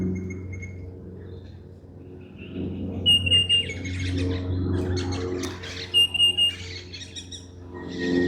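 Birds in a park chirp and tweet in short bright bursts, with several quick repeated calls over a low, steady outdoor rumble, moderately near and with no voices.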